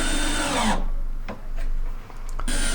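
Power drill driving self-tapping wood screws into plywood for van overhead cupboards, a loud close whirring run that stops, a quiet gap with small clicks, then the motor starting again.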